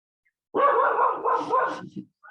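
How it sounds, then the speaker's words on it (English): A dog gives a short run of close, loud barks and yips that trail off into a whimper, with a brief sound after a pause. "She's barking."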